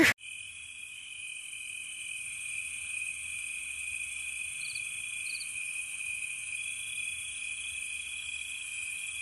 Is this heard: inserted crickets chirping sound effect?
yes